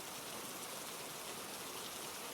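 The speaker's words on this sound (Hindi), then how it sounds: "बारिश लगातार हो रही थी" Heavy rain pours alongside a rushing river in a steady, unbroken wash of hiss and gush, dense and even throughout with no pauses.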